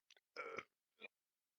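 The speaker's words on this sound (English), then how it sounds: "That was a burp." A single short belch, close and fairly quiet, preceded by a couple of tiny clicks and followed by a brief softer grunt, in an otherwise silent room.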